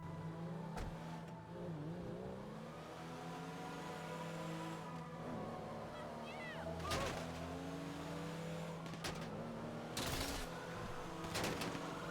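A stolen civilian car driving in GTA Online, its engine note rising and falling steadily with revving and brief tire squeals, heard close over a continuous game background.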